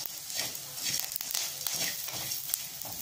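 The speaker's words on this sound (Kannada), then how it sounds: "ಸಣ್ಣ ಉರಿನಲ್ಲಿ ಚೆನ್ನಾಗಿ ಫ್ರೈ ಮಾಡ್ಕೋಬೇಕು" Whole spices such as cloves dry-roast with curry leaves in a pan over a low gas flame for homemade garam masala, giving a soft, steady crackle with faint stirring scrapes and no voices.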